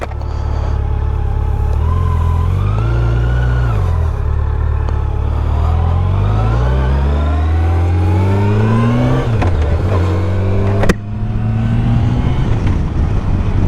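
A 2023 Yamaha FJR1300 ES motorcycle engine pulls away at the start of a ride, loud and close, rising through revs over several gear changes with a steady drone between shifts.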